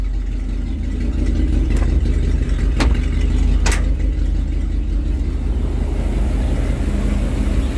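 A 2014 Ford F-150 pickup with the 5.0L Coyote V8 idles steadily and close, a low continuous rumble with a few sharp clicks or taps over it and no talking.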